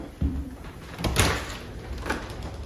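A side door in a decades-old American house's kitchen opens to the side entrance, giving a soft thump and rattle of the latch, then a short creak and sliding rub, close and moderately loud with no talk.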